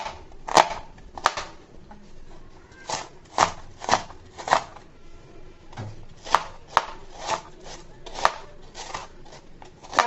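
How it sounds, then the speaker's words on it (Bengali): A knife finely chops an onion on a board, close up, with a steady run of sharp, crisp taps at an uneven pace and brief pauses between strokes. "পেঁয়াজটাকে যত সম্ভব কুচি কুচি করে কেটে নিব।"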